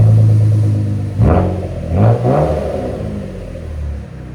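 Straight-piped 500 hp Saleen Ford Explorer revving up close, three sharp throttle blips rising over a heavy idling rumble, then settling back to a loud steady idle.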